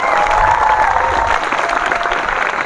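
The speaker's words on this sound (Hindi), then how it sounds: "जोरदार तालियां, चंद्रमा की तरफ तिरंगा बढ़ता हुआ।" Loud, steady applause from a school audience during a Chandrayaan-3 practical demonstration, a dense wash of clapping with crowd noise and a faint tone running through it.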